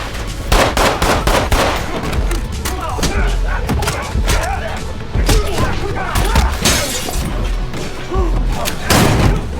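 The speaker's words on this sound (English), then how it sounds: "Hearing gunfire and fighting, Frank rushes to support." Dense, loud bursts of gunfire and heavy impacts crash continuously, with thuds and shattering mixed into a chaotic fight.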